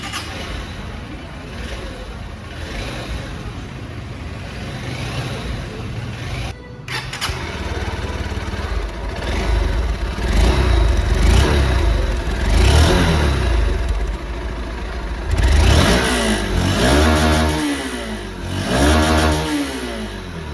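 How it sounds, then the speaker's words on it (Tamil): A Honda SP 160 motorcycle revving through its exhaust, close and loud, with repeated throttle blips rising and falling over a steady idle, and no talking. "வண்டியுடைய எக்ஸாஸ்ட் சவுண்டு வந்து நீங்கள் கேட்டிருப்பீங்க."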